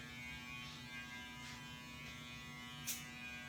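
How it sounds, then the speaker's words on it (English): An electric hair clipper with no guard, blade fully open, hums with a faint, steady buzz close by, with a few soft brushing passes and a brief scrape near the end. "I'm going to go through with my clipper, no guard, all the way open"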